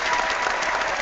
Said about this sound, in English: Let's give Michael Williams an applause here